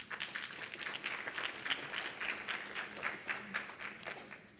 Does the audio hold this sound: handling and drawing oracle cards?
no